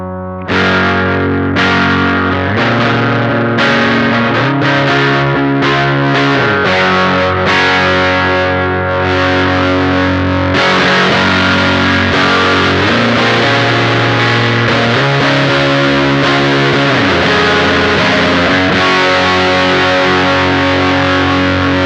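An electric guitar played through The Dunsh pedal, chords strummed steadily and loudly while rising gain turns the tone progressively dirtier and more distorted.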